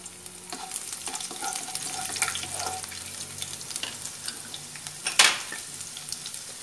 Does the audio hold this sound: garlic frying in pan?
yes